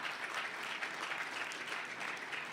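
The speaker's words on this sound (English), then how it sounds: "please give DevFolio a round of applause" An audience claps steadily through a closing ceremony, a dense and even wash of applause at some distance, with no voices rising above it.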